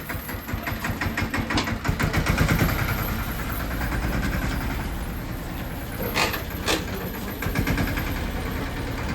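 A tractor engine runs steadily while the driver tries and fails to get it into reverse. The mid-pitched, knocking idle drones loud and close throughout, with a couple of brief sharper bursts near the end.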